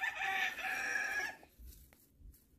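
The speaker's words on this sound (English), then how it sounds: "I hear the roosters." Roosters crowing in a village setting, one drawn-out crow heard clearly at moderate distance for just over a second, then quiet with faint low rumble.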